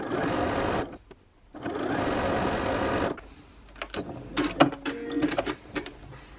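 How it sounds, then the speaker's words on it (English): A sewing machine stitches fabric strips onto wadding in two sustained, close bursts of rapid whirring, followed by quieter clicks and handling sounds of fabric being moved. "stitching down this raw edge so that when it opens up, again, it will just keep adding lovely strips of fabric"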